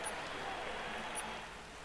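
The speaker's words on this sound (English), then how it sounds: "It is raining." Steady broadband hiss of rain pouring down in the racing video game MotoGP 19, constant and fairly soft with no breaks, filling the whole stretch.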